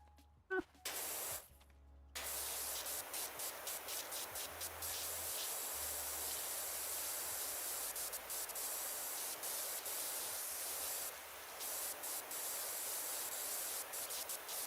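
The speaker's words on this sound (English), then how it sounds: "Probably really smart to spray water all over a running generator" A pressure washer sprays water in PowerWash Simulator 2, a loud steady hiss lasting nearly the whole stretch, with a brief interruption near the start and a few short dips.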